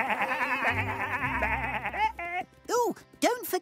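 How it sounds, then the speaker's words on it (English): Cartoon sheep bleat several times in short wavering calls, mixed with a character's voice and background music, ending in three distinct bleats near the close. "In you go, sheep."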